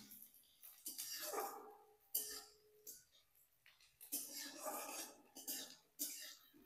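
Chopped garlic stirred around a pan with a metal spoon while a Bengali chicken curry is being cooked, giving close, irregular bursts of scraping and clinking separated by brief pauses.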